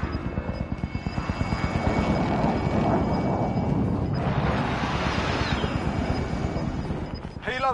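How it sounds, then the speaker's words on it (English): Video game helicopter with steady rotor chop throughout, loud and close, with sporadic bursts like gunfire and other game effects layered over it. "Helo is in position."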